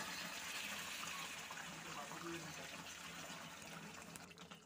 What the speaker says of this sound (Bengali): এর মধ্যে আমি দিচ্ছি গরম জল